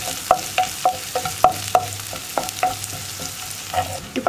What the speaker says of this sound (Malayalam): 2-3 വറ്റൽമുളക് ചേർക്കാം. പിന്നെ കുറച്ച് കറിവേപ്പിലയും ചേർക്കാം.